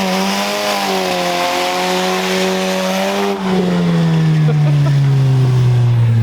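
Up close, a car revs loudly during a burnout with the e-brake pulled, engine pitch holding high and then dropping into a sustained lower drone as the tires spin.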